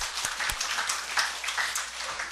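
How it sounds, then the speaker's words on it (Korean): A church congregation claps together at a New Year's first-week service, a dense, fairly distant patter of many hands filling the short moment without voices. "영광의 박수를 돌리겠습니다."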